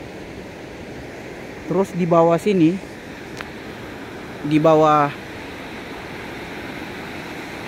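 River water flowing steadily at a steel truss bridge construction site on the Digoel river, a constant broadband rush running throughout while someone speaks briefly over it.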